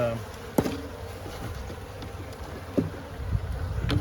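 Honey bees buzz around frames pulled from a small hive, a continuous close hum with a few soft knocks and handling sounds scattered through.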